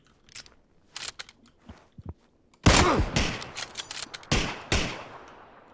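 Gunfire in the battle royale game PUBG on the snowy Vikendi map: a few sparse shots early on, then a loud close burst of several rapid, heavy reports with scattered crackling, no talking.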